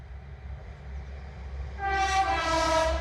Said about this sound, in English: Couple of toots then from a train.